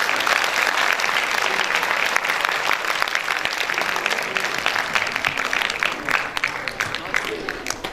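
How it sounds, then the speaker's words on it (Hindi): An assembly audience at a birthday commemoration gathering claps to welcome the chairman, a loud, dense burst of applause that continues steadily for several seconds with slight fluctuations. "एक बार तालियों के साथ श्रीमान जी का यह स्वागत।"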